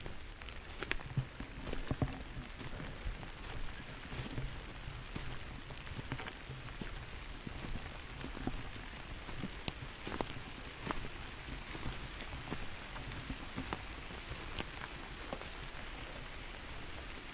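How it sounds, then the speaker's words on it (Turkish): Rain falls steadily on the Küre Mountain plateau road, a soft, constant hiss dotted with small scattered droplet ticks, picked up close by an outdoor camera. "Ve yağmur bastırıyor."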